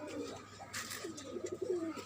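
Pigeons and doves coo softly from a rooftop garden pigeon coop, giving a few low, rolling calls close by.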